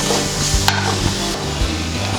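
Pasta mixed with pasta masala powder is stirred in a pan, a spoon scraping and knocking against the metal over a steady frying sizzle, close and continuous.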